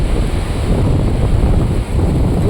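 Surf and wind at Machilipatnam beach: a steady, loud roar of breaking waves with gusts buffeting the microphone, continuous throughout with no voices.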